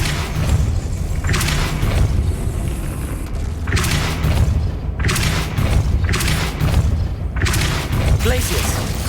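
The Depulso force spell from Hogwarts Legacy fires again and again, each cast a heavy booming whoosh, about four loud hits at a steady pace over constant game noise, with a voice calling out during play.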